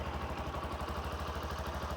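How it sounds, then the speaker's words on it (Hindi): A 2026 Bajaj Platina 110 motorcycle engine idles close by, a rapid, even low putter pulsing steadily without revving. "आइडियल कंडीशन पर इंजन साउंड सुनिए,"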